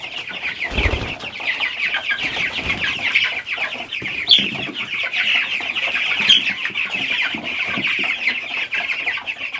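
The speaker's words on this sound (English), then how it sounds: "Chickens are anxious to come out." Chickens cluck and chatter continuously, a busy, overlapping flock with a few sharper squawks standing out.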